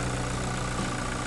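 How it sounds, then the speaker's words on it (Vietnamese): A 2019 Toyota Fortuner diesel engine idles smoothly, a steady, dense low rumble heard close up with no talking. "Đây, động cơ nổ rất là êm nha các bạn."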